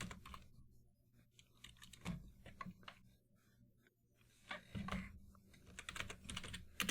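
Quiet typing on a computer keyboard: irregular bursts of light key clicks come in clusters with short pauses between them, close by and with no voices.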